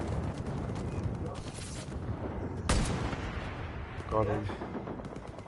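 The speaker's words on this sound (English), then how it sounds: "I use a mounted gun" Mounted gun fire in the Far Cry 5 Hours of Darkness DLC, heard as a few heavy bursts: a loud crack near the middle and a rattling burst toward the end over constant game noise, with a brief spoken line.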